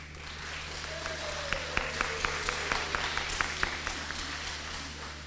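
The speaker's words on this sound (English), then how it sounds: "Let's continue clapping for them." An audience claps at a kindergarten graduation ceremony at Oshwal Academy Mombasa, moderate sustained applause with sharper individual claps standing out over steady hall hum, faint tonal sound briefly underneath.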